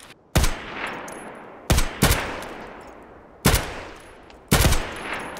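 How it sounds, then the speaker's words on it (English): Four loud, sharp gunshots crack out in Escape from Tarkov at irregular intervals, each with a long rolling echo that fades before the next shot, with no talk. "Somebody is shooting."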